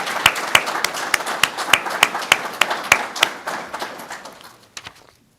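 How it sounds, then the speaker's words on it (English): Audience applause at a police department promotions ceremony: a steady wash of many hands clapping, with sharp individual claps standing out. It grows loud early, then thins out and fades to quiet over about five seconds. "I'd like to give our families and friends a round of applause."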